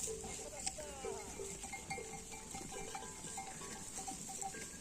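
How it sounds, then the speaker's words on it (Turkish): A flock of sheep eating acorns moves about nearby on a mountain descent from highland pasture, with scattered faint bleats and a tinkling bell over a steady outdoor hiss. "Koyunlar pelit yemeye başladı."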